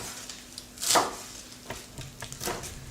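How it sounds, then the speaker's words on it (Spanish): A knife chops fresh parsley on a board in a few sharp, separate knocks spaced roughly a second apart, fairly quiet and close with no talking. "Y empezamos también a picarlo, también de gusto, pero no tan chiquito como picamos los demás ingredientes."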